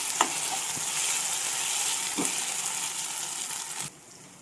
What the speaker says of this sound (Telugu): ఒకసారి కుక్ చేసుకుందాం కలుపుకుందాం బాగా